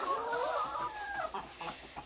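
Egg-laying hens cluck nearby in a short burst, a drawn-out call followed by quicker broken clucks at moderate loudness with no voices.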